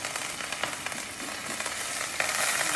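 Mustard seeds, green chilli and curry leaves sizzling in hot oil, a steady, close crackling hiss with small pops throughout, no talking.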